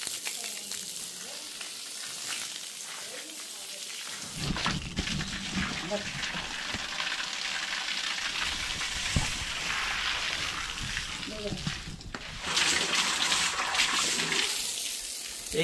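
Water gushes out as a borewell in a Konkan village is emptied, a loud, steady splashing rush that starts abruptly after a quiet opening and keeps pouring, surging stronger near the end.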